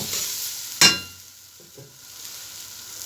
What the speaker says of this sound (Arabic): بسرعه كده اهوت بنشوح تشويحه خفيفه جدا جدا